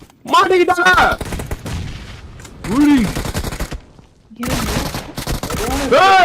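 Gunfire from a PUBG Mobile match crackles in rapid bursts with short pauses between volleys, loud and near, with game voices and effects mixed in.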